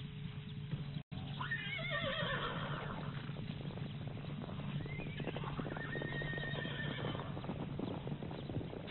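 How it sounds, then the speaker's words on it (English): A herd of wild mustangs on an island in Rostov National Reserve moves together, with repeated loud neighing and whinnying over a steady bed of hoof and herd noise, heard alone without talk. "As soon as a small group of horses begins moving, the others gradually join in."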